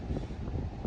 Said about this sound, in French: là il y a du vent, le vent il s'est levé